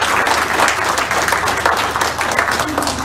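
Applause from a church or town-hall audience giving a clap offering to God, dense continuous clapping that stays loud throughout with some crowd voices mixed in.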